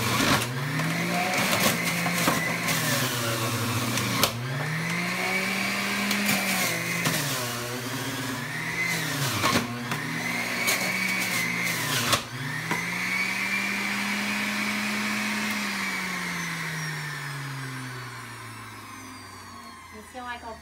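Juicer pressing organic carrots: a loud, close motor whine with a grinding rasp that dips and swells in pitch as each carrot is fed in, then slowly winds down.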